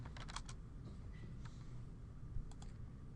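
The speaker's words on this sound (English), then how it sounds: "I could just go to Google and type craft beer" A search typed on a computer keyboard, quiet bursts of rapid key taps near the start, a few scattered presses in the middle and a short run of clicks toward the end.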